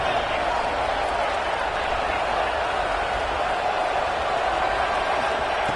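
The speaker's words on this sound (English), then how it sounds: "this crowd coming to life here, trying to help the defense get a stop" A football stadium crowd roars steadily during an American football game as the defense tries to get a stop, a dense, unbroken wash of cheering and clapping that stays loud and even throughout.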